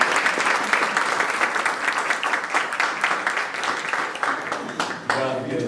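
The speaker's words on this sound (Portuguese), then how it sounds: "A salva de palmas." Church congregation applauding during a Sunday celebration service, a thick wash of many hands clapping that gradually thins and softens toward the end, with a voice briefly rising over it near the close.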